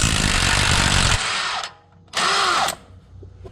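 Impact gun spinning off a 22mm strut bolt on a BMW front suspension: a loud broadband whirr for about a second, then two shorter tool bursts with a pause between them, close by.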